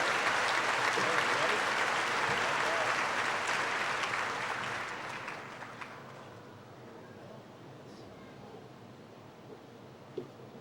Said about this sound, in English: Everyone would please join me in a round of applause and congratulations.